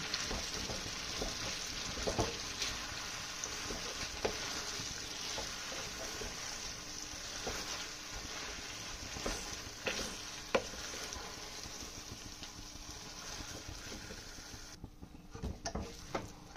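Potatoes and tomatoes sizzle in a pan while a utensil stirs and scrapes through them. Soft clicks and knocks recur irregularly over the steady frying hiss, which drops away near the end.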